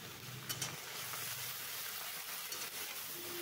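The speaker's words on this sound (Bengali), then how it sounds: "এবার পরিমাণ মতো লবণ দিয়ে বেগুনগুলোকে ভেজে নিচ্ছি।" Eggplant pieces fry in oil with nigella seeds and salt, giving a steady, fairly quiet sizzle with a couple of faint utensil taps near the start.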